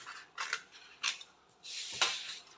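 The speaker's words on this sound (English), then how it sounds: "I'll cut through the shoulder seam line, and this is my natural neckline." Scissors snip through a paper dress pattern along the neckline and shoulder seam, three or four crisp separate cuts with short pauses between, close and fairly quiet with no talking.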